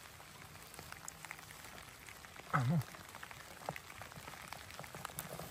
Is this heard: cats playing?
no